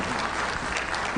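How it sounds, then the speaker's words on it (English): A crowd applauding steadily at a membership meeting, dense clapping that fills the whole moment at a strong, even level. "Once again, a very warm round of applause for Secretary Fred Pascual."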